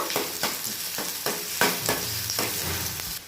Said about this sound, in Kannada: ಕರಿಬೇವಿನ ಸೊಪ್ಪು ಮತ್ತು ಈರುಳ್ಳಿ ಎರಡು ಹಾಕ್ಕೊತಾ ಇದ್ದೀನಿ